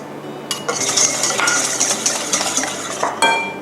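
Spoon stirring mashed banana into a whipped egg and vanilla batter for banana cake in a mixing bowl, giving a steady run of soft scraping and light clinks against the bowl, close and fairly loud, with no talking.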